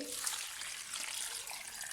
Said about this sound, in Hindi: इसको मैं बिल्कुल ऊपर तक पानी डालूँगी इसमें ये गल जाएंगे।